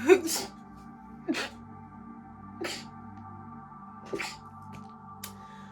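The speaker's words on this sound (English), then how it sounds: "Whew, that was 4 sneezes in a row." Four sharp sneezes in a row, evenly spaced and close up, each a sudden burst over a quiet steady background hum.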